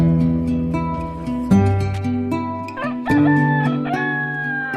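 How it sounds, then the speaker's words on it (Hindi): A rooster crows loudly over a tonal, music-like background, with sustained harmonic calls. "तभी मुर्गे के बाग देने की आवाज सुनाई देती है"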